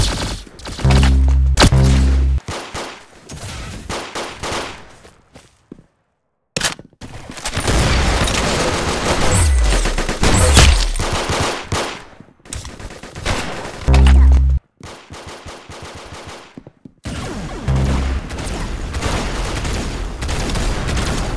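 Gunfire in the Roblox shooter Arsenal: repeated bursts of rapid shots and heavy booming blasts, loud and close, separated by short silent gaps, with no talking.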